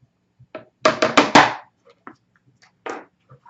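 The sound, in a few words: acrylic paint tube banged on the table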